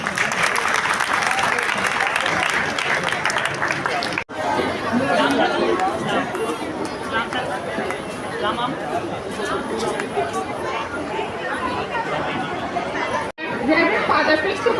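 Audience applause at a church Christmas program at St Michael Catholic church, a steady dense clapping that fills the hall for most of the stretch with crowd chatter mixed in and brief breaks.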